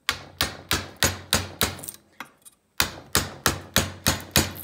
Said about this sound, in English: So, I can chisel into it a little bit and just let things kind of fall where they need to.